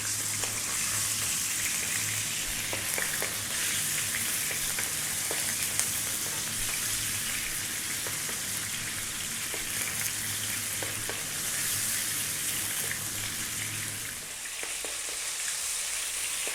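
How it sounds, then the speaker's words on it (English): Belly pork with the skin cut off frying on high heat in a wok, a steady dense sizzle and crackle that runs continuously, then drops off sharply near the end. "and there's our pork. In it goes."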